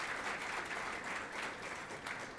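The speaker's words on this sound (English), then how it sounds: "Let's give our series sponsors all a big round of applause" A large audience at a morning business forum applauds the series sponsors, with steady, dense clapping that lasts throughout, heard from within the room.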